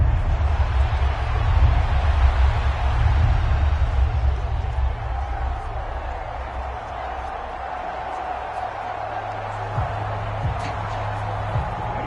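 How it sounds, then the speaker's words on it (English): A stadium crowd in the Madden 24 football video game gives off a loud, continuous roar and murmur. The noise swells early, then settles into a steadier hum for the rest of the stretch. "this crowd doing their best to make a lot of racket"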